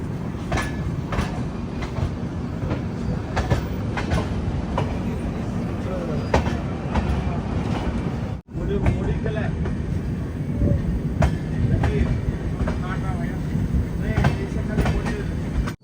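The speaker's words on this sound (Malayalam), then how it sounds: "ഗുഡൂരിൽ നിന്ന് ഇതാ ട്രെയിൻ എടുത്തിരിക്കുകയാണ്." A Vivek Express train pulling out of Gudur gives a steady, loud rolling rumble with rhythmic wheel clatter on the tracks, heard from inside a 3AC coach. Voices come and go over it, and there is a brief dropout midway.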